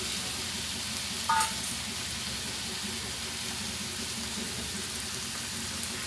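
Onions frying in a pan give a steady, soft sizzle with a crackling hiss throughout and one brief clink of a utensil early on.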